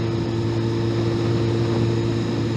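Motorbike ride-along sound recorded on the bike around Oslo: a loud, steady engine drone with a constant low hum and rushing wind, unbroken for a few seconds, no talking.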